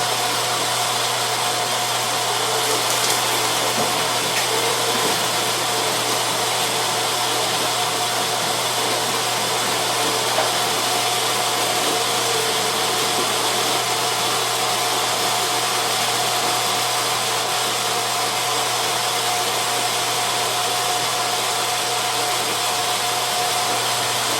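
A meat grinder runs on wild game meat through a medium grind plate, giving a steady loud motor whine and drone that holds evenly throughout without pause or talk.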